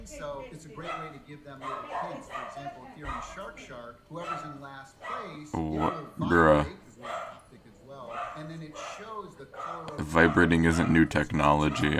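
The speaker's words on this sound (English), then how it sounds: "sorry for my dogs, by the way" Pet dogs yip and bark intermittently in a room, under continuous conversation from several people, and the barking grows louder and busier near the end.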